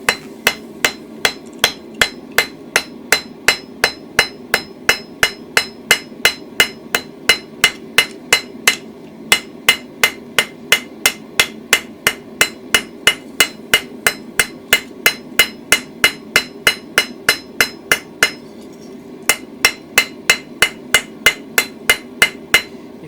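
A blacksmith's hammer strikes hot steel at lower forging heat while rounding the stock for a toasting fork, sounding as a long, steady run of loud, evenly spaced metallic blows with one short pause near the end.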